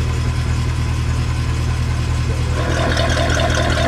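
A Mercedes C63 AMG idles with its exhaust valves shut, a continuous low engine drone heard up close, with the rumble steady throughout and slightly rougher toward the end.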